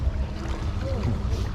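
A woven basket boat is paddled among the coconut palms of Hoi An, with soft water splashes and paddle strokes under breezy wind noise, close to the microphone.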